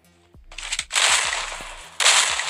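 Rapid gunfire in the mobile shooter game Free Fire, loud and close: sharp repeated shots in quick bursts, dense automatic fire swelling after a brief lull and surging again near the end, with no voices.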